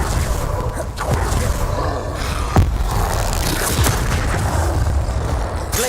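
Confringo fire spell blasts in the video game Hogwarts Legacy go off as a few sharp booming impacts over dense, continuous combat noise, loud and close.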